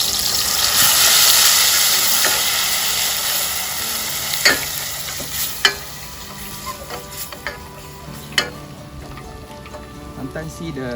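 Tempeh fries in hot oil with a steady, dense sizzle that gradually softens, while utensil clinks and stirring scrapes pop out intermittently over the crackling.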